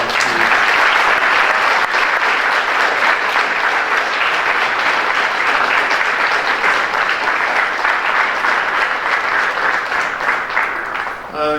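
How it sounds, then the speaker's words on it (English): Steady applause from an audience at a high school senior awards night, sustained and dense for the whole stretch, honoring sponsors and parents, tapering slightly near the end. "So if you could give them a round of applause."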